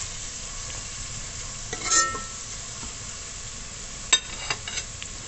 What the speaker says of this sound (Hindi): प्याज को लाइट ब्राउन करेंगे, ज़्यादा डार्क ब्राउन नहीं करना।